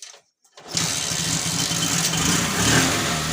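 After a brief silence, a TVS XL 100 moped engine fires up following a repair for a starting problem, then settles into a steady, buzzing idle close by.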